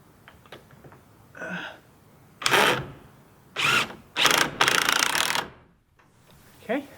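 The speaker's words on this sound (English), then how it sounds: "I'm just going to screw this in to the end down here" A power drill drives screws into a wooden jig at the end of a board, in several short whirring bursts separated by pauses, close by, with faint talk and handling noise between them.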